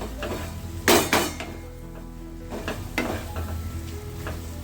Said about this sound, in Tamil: போட்டு கொஞ்சம் நல்லா கலந்து விட்டுக்கலாம்